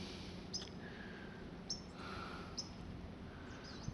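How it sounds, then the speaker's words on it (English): Small birds chirp in trees on a quiet Southern Gulf Islands shoreline, a few faint, brief high chirps spaced apart over soft steady background hiss. "Hear little birds chirping."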